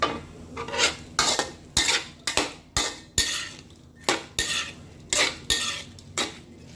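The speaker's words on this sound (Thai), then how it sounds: "ทำกุ้งก่อน นั่นกุ้งให้น้ำแห้งแล้วก็ผัด" Shrimp being stir-fried in a pan, with a utensil repeatedly scraping and clinking against the metal in a quick, irregular rhythm of about a dozen strokes, close up and with no talk.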